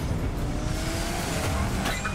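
Race cars in the Cars 3: Driven to Win video game roar loud and steady, engines droning together under a thin, high tire squeal that carries through the short stretch.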